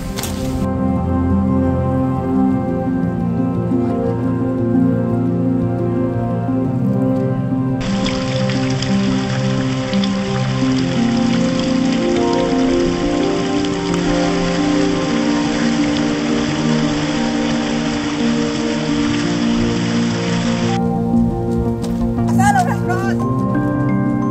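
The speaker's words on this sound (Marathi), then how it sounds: "पाऊस पण येतोय ते पण बघूया" Steady rain hisses for a long stretch on a hill fort trek near Matheran, Maharashtra, blending with a continuous tonal background, fairly loud and even throughout.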